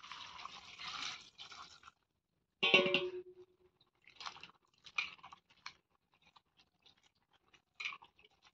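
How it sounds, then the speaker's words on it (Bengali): Cut raw jackfruit rinsed in water by hand in a kitchen, with intermittent wet splashes, squelches and drips in short bursts separated by quiet gaps, close and moderately loud. "আমি এঁচোড়টা কেটে নিয়েছি, আমি এবার এটা ধুয়ে নেব।"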